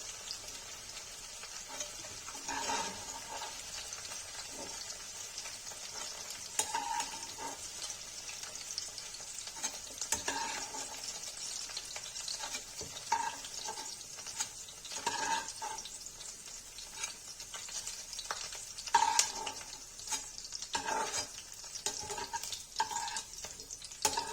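Okra (bhindi) fries in hot oil for a crispy Kashmiri dish, with a steady close sizzle broken by repeated stirring scrapes and clinks throughout, and no voices.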